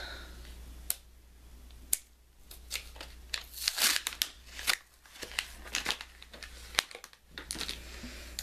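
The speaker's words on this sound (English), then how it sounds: "So let's open this pack." A Sierra Bees lip balm set package is opened with sharp snaps, crinkles and tearing of wrapping, in scattered close bursts without talk.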